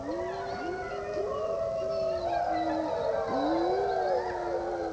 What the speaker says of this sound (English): That mournful howling has raised the hackles on the neck of many a lonely traveler